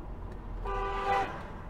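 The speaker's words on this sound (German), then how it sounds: "Die Hupe geht." A single short car horn toot sounds at a distance over low traffic rumble, lasting about half a second.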